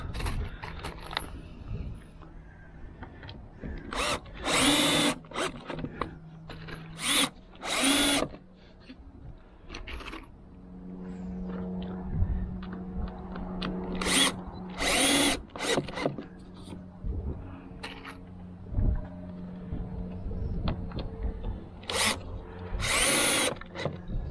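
Power drill driving screws into a wooden cabinet for an up-flow filter, several loud whirring bursts of a few seconds each separated by quieter handling noise, close to the mic.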